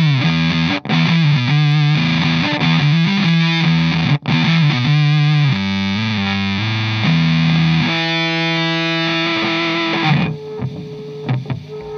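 Electric guitar through a Danelectro French Toast octave distortion fuzz pedal, loud saturated fuzzy chords and notes ringing in a continuous wall of noise before thinning out at the end.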